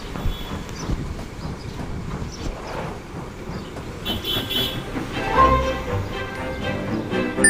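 A train rolls steadily along the tracks, a continuous rumbling clatter of wheels and rail noise that swells slightly louder toward the end.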